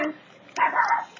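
A dog barks once, short and somewhat distant, in an upstairs room, after a brief quiet moment.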